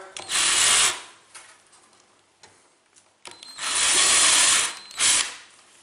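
A power drill countersinks a hole in two bursts, then a longer grinding run and a short final burst, close and loud, with quiet clicks between.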